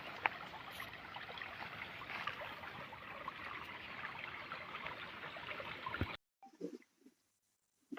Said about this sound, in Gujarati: તો જોઈ શકો છો પાણી આ રીતે હાલ્યું જાય છે.